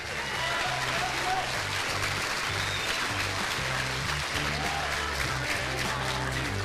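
An audience at a small-town Sesquicentennial queen pageant applauds the contestants, steady clapping from a modest crowd continuing throughout, mixed with background music and some crowd noise.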